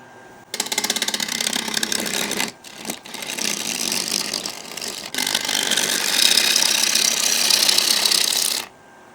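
A 19 mm Woodcut Tools bowl gouge roughing a jacaranda blank on a wood lathe, with loud rattling, chattering cuts in several bursts separated by brief pauses.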